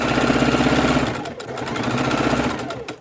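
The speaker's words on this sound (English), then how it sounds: "we are sewing our 3 strips together for our quilt" A sewing machine stitches three fabric strips together for a quilt, its needle running in a steady rapid mechanical whir that pauses briefly before resuming.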